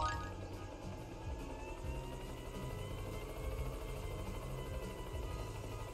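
A helicopter transformation in the Yooka-Laylee video game produces a steady, low, rapid rotor chop that drones continuously at moderate level, with a faint watery bubbling texture on top and no talk.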